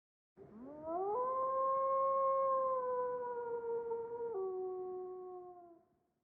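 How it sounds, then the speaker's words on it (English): A lone wolf howls in the announcement teaser for the Harvest Moon game Echoes of Teradea: one long, clear, sustained howl that rises, holds steady, dips in pitch near the end and fades, with nothing else around it. "there was a wolf howling"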